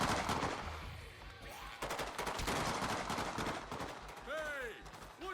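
Soldiers gunning down zombies in Dead Rising 2, rapid bursts of automatic gunfire and single shots rattling continuously, loud and close, with voices talking over the shooting.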